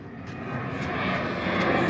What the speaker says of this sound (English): Then we got these airplanes.